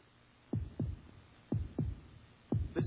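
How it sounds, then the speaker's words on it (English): Heartbeat sound in a 1986 Chevrolet Corvette commercial: deep, paired lub-dub thumps repeating at a steady pace about once a second, close and prominent over a faint background hum. "Listen to the heartbeat."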